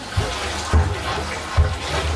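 Water flows and gurgles through an aquaponics system's pipes in Myanmar, a steady rushing wash with low periodic surges and glugs recurring roughly every 0.8 seconds, close and fairly quiet.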